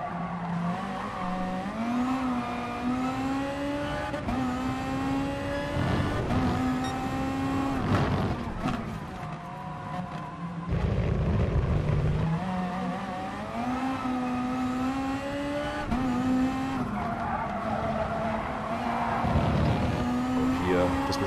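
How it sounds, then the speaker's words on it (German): VW Beetle GT3 in Gran Turismo Sport at Tsukuba Circuit, a close engine winding up through repeated gear climbs with tire squeal and skidding, under a voice talking. "Und hier das Beschleunigen."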